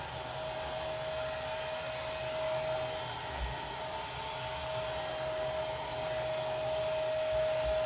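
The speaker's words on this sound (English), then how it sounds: "He likes my little vacuum" A small handheld vacuum cleaner runs steadily up close while cleaning a desk, giving a continuous whirring drone with a thin whine that holds level throughout, and no talking.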